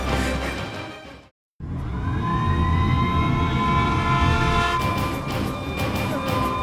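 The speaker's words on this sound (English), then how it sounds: "this siren, it sounds different" An alarm siren wails in the video game Xenoblade Chronicles, a loud continuous rising tone that starts after a brief silence and holds steady over a dense mechanical background, with no talk.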